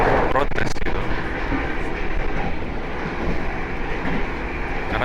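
Inside an executive-class carriage of the KA Pandalungan train from Jakarta to Jember, a steady loud rumble and roar fills the cabin without letup. A voice talks over the din throughout.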